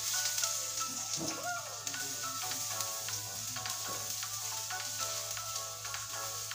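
Garlic frying in a hot pan for a Filipino eggplant omelette with ground pork, a steady close sizzle with occasional stirring scrapes and no talk.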